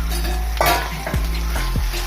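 Masala-coated prawns frying in a pan for an Andhra-style prawn fry, a close steady sizzle broken by a few quick stirring scrapes of a utensil against the pan.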